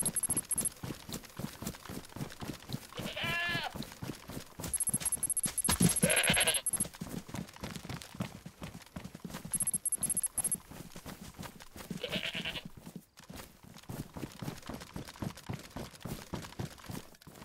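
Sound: goats bleating in the video game DayZ

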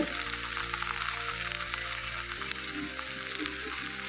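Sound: okra frying in a pan

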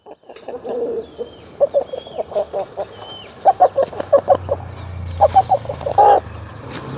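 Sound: rooster clucking

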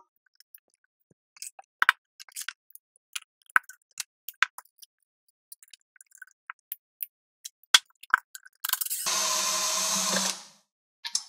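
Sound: power tools disassembling guitar hardware

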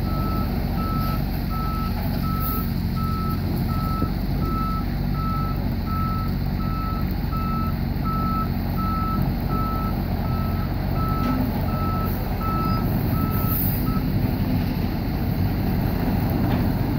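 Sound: truck reversing beeps while backing into position

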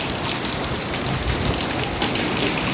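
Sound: rain falling

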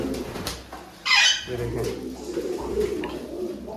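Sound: pigeons cooing

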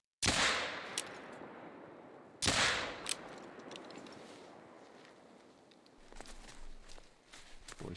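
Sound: rifle gunshot in the video game theHunter: Call of the Wild

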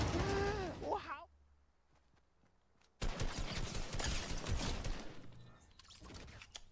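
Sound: sniper gunfire in a video game

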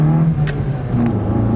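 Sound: car with cold air intake accelerating on highway

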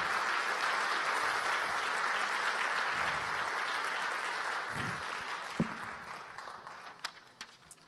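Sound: audience applause at awards ceremony

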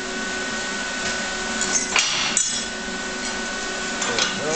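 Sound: plasma cutter cutting 3/8 inch aluminum

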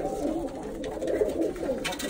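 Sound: Birmingham Roller pigeons cooing

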